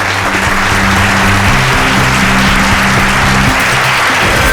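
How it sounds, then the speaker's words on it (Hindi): Steady applause from a studio audience on a crime drama set, loud and continuous with dense hand claps and no talk over it. "तालियां।"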